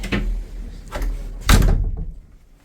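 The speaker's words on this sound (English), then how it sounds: "And shut the door." A door in a mountain bothy in Snowdonia is handled, with a couple of lighter knocks and then a firm close thud, near and solid, before the room goes quiet.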